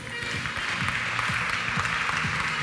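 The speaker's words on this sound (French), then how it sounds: "On les applaudit." At a French corporate business event, a seated audience applauds steadily as two guests walk onto the stage, with faint voices murmuring beneath the clapping.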